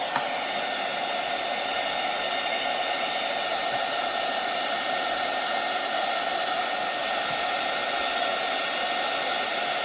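A craft heat tool heats embossing powders on a craft tray, giving a loud, steady blowing hiss close by that holds unchanged for about ten seconds, with no talk.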